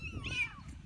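A tiny kitten in an Assam village lets out a single short, high meow close by, over faint background rumble.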